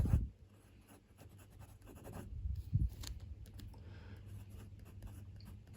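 A steel fine Wing Sung 3411 fountain pen nib writing on Clairefontaine paper, a soft, close scratching that runs steadily in short strokes and pauses, with no talking.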